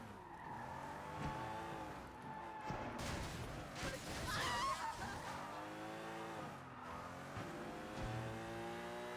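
A DLC car in the video game Sleeping Dogs is driven fast, its engine revving up and down repeatedly with squealing tires and skids, loud and close.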